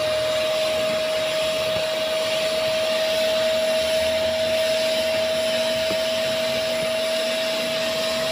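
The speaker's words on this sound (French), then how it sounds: "Je vais d'abord faire une aspiration à sec et je vais vous montrer l'état de la brosse." A Silvercrest fabric cleaner vacuums a carpet dry, giving a steady, loud, continuous motor whine with a constant pitched tone, close by and without talk.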